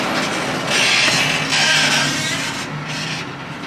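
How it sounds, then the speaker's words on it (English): Hershey Park's oldest roller coaster runs past with a steady, loud rumble and clattering wheels on the track, rising in two surges, with no talking over it. "This is their oldest roller coaster."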